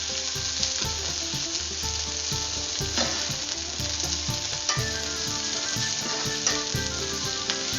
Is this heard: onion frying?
yes